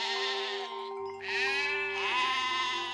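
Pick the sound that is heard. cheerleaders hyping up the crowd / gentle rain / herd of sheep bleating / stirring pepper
herd of sheep bleating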